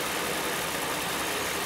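A Mercedes R129 SL600 engine idles after a year of repair, a steady, close and loud mechanical hum with even vibration and no talk over it.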